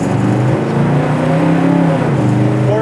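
A 1970 Dodge Dart Swinger V8 hot rod with a 355 Posi rear end sounds off as a loud, close engine roar, pitch rising and falling steadily as it revs, with no talk over it.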